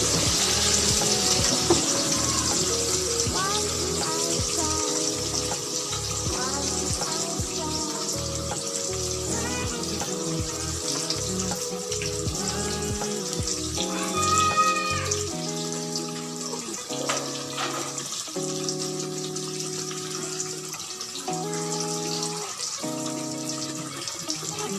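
Brinjal fritters deep-frying in plenty of hot oil give a loud, continuous sizzle and crackle that thins out toward the end, with no talking.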